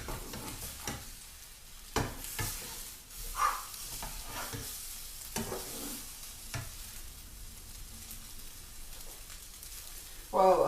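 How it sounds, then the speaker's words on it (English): Uncooked egg frying in a pan and being stirred so it reaches the hot bottom: a steady sizzle and hiss with occasional scraping strokes from a utensil, close by, with brief louder bursts and spoken commentary alongside. "Get all that uncooked egg exposed to the bottom of the frying pan"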